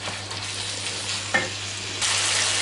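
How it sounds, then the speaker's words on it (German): Chicken mince hits hot oil in a pan and sizzles steadily, with a stirring scrape partway and the frying growing louder near the end, close and continuous with no talking. "das Öl ist jetzt heiß, also kommt das ganze Hähnchenhackfleisch rein"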